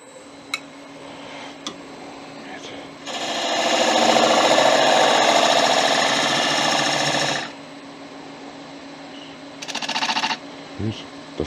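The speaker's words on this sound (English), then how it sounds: "Now I got a spindle gouge to get in there as close as I can get." A spindle gouge cuts into an end-grain wooden bowl spinning on a lathe, a loud steady rasping shear lasting about four seconds, with quieter workshop noise before and a short second cut near the end.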